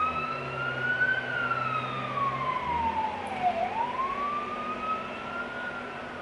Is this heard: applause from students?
no